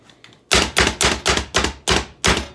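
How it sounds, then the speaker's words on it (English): A knife chops onion and broccoli on a cutting board in seven sharp, evenly spaced strikes, close and loud, with no one talking. "chop them up a little bit more with this last piece of onion"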